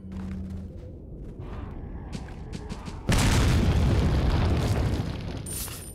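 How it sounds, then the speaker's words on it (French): A thrown grenade detonates in a horror video game: a sudden loud blast erupts midway and leaves a dense roar that slowly fades, after a quieter stretch of ambient game sounds. "lancer une grenade, on va tester"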